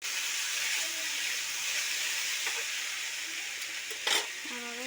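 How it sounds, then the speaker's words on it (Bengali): Chopped tomato drops into a pan of potato curry frying for a paratha breakfast; a steady, close sizzling hiss runs throughout, with a brief louder clatter and stir near the end. "এরপরে টমেটো কুচি দিয়ে দিচ্ছি,"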